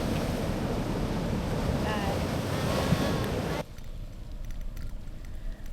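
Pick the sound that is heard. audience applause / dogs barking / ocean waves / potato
ocean waves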